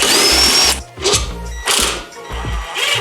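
An impact-style power tool works a 17mm coilover bolt on a Miata, buzzing in four short rattling bursts with brief gaps between them, loud and close.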